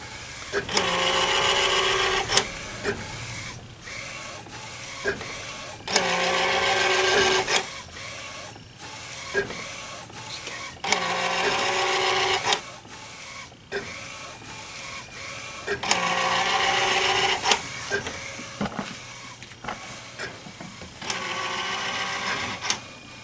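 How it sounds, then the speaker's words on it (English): DTG garment printer laying down a white ink base while its pressurized ink system pushes ink through, giving repeated bursts of mechanical whirring and hissing that rise and fall in cycles with quieter clicking gaps in between. "the noise you're hearing is the pressurized system pushing the ink through"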